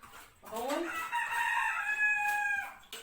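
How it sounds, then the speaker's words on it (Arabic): A rooster crows once nearby, a loud drawn-out cock-a-doodle-doo that rises, holds steady, then cuts off, with faint background noise around it. "لا الديك دي بقى ايه،"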